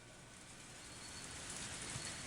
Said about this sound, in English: Yeah, the rain's gonna be loud.